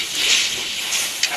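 Water poured into a hot pan of ground chilli and cumin powder hisses steadily, a loud continuous sizzle lasting over a second with a brief sharper burst near the end, heard alone.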